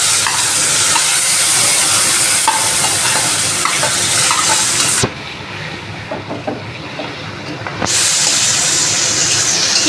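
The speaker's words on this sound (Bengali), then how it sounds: "পেঁয়াজ আর টমেটো ভাজা হবে" Chopped onion and tomato frying in oil with whole spices and cumin for a Bengali chicken curry, a steady loud sizzle with stirring clatter that drops briefly quieter midway before resuming.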